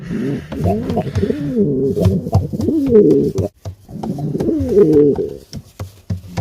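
Pigeons coo in repeated low, throaty, rolling phrases, close and fairly loud, with a short gap in the middle.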